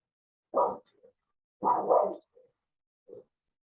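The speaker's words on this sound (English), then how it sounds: "dog was barking" A dog barks indoors, two loud barks followed by a fainter short one, each standing alone against silence.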